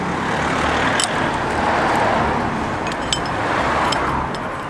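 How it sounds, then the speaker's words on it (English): Street traffic passes steadily nearby, a continuous broad rumble of cars with faint metallic clinks of spanners on top, recorded outdoors while working on a Land Rover Defender. "I'm in the street, you can hear the cars."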